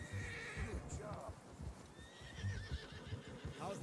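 A horse in the video game Red Dead Redemption 2 gives a clear whinny over the clip-clop of hooves, fairly close, with game characters talking around it.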